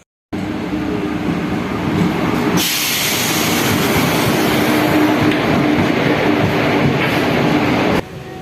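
Loud, steady rumble and rushing roar of a train arriving at a station, sustained for several seconds before cutting off.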